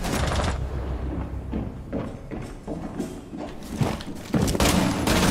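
A light machine gun in a video game rattles off sustained automatic bursts, loud and close, with heavy thumping impacts and a final intense volley near the end.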